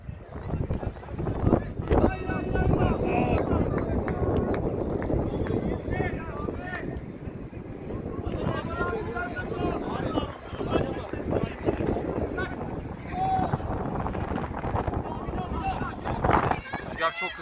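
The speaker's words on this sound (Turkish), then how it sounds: "Rüzgar çok hızlanmaya başladı." Strong wind buffets the microphone in a steady, roaring rumble throughout during an amateur football match, with faint distant voices underneath.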